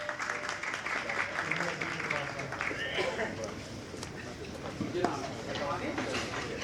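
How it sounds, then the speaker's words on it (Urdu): An audience at an award ceremony in Sialkot applauds to welcome an award recipient, a dense wash of clapping that carries on under someone speaking over it. "بھرپور تالیوں سے استقبال کیجیے گا"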